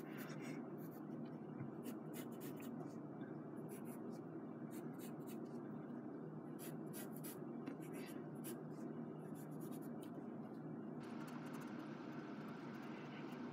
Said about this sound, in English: I'm gonna go in and just pencil those letters back in with cleaner